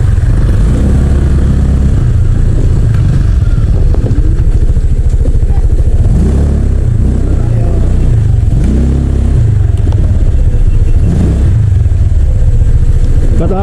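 A motorcycle engine runs loud and close throughout, rumbling and revving in uneven surges while people talk over it.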